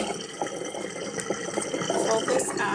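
Water drains away after Merino wool locks are scoured, a steady close trickle and gurgle with small splashes, fairly soft and continuous.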